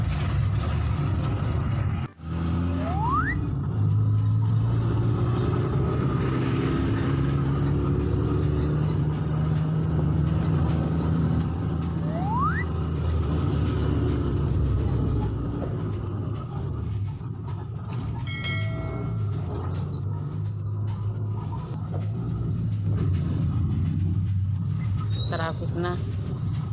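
Saturday-morning road traffic with cars and heavier vehicles rumbling steadily at close range, a continuous low drone with faint horn-like tones, passing engines and occasional brief talk over it.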